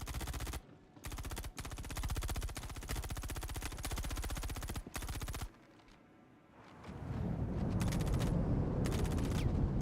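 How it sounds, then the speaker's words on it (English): Rapid automatic gunfire in the video game Star Citizen rattles in long sustained bursts, then a pause, followed by a dense roar of heavier firing and rumbling. "Already got gunfire going."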